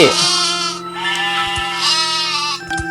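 Sheep bleating in the game Mini World, a wavering, harmonic bleat running loud and close through most of the moment, with a few soft thuds near the end.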